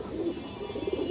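Breeding fancy pigeons give a brief, low, soft cooing in a short murmuring burst, close by with faint background noise.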